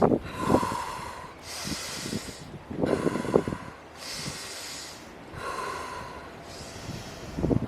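Deep yogic breaths drawn outdoors, three long, loud inhalations close to the microphone, each followed by a pause, with a rough, airy rush and some wind noise.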